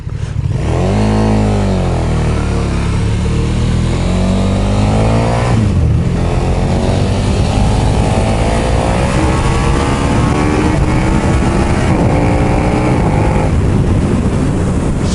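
A 2020 KTM Super Duke R motorcycle engine revs hard and loud, its pitch sweeping up and down through repeated throttle blips before holding a sustained high roar, heard close with no talking.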